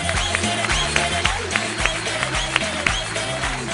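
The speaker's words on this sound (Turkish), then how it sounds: "Alkışlarla o zaman Berat Yenilmez geliyor." A studio audience claps to welcome a guest onto a TV show, steady applause running over loud rhythmic music with a thumping beat.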